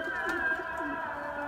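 Pigeons cooing inside a coop holding about twenty birds, a steady layered murmur of soft throaty coos with no talk over it.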